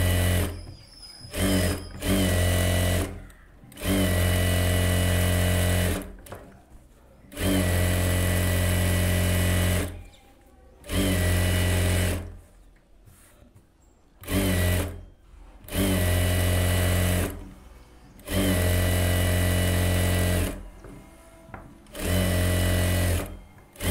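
An electric sewing machine runs a quarter-inch seam around a blouse lining in repeated loud, close bursts of steady whirring, each a second or two long and separated by short pauses.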